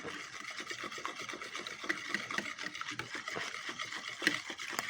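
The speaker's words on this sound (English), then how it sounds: "just keep whisking until there's no form of egg yolks and it's just the the batter" Eggs being whisked into pancake batter, a steady rapid scraping and tapping of the whisk against the bowl, close and continuous with no talking.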